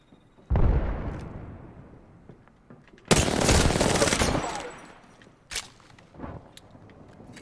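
Grenade blast and bursts of gunfire in the battle royale game Apex Legends: a sharp boom, then a long loud roaring explosion, followed by a few scattered distant shots, with no talk.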